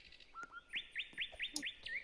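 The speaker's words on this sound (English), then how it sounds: "All I hear is the birds" Small birds chirp in the Roblox-style video game Build a Boat for Treasure, a quick run of bright repeated tweets, close and clear over a quiet background.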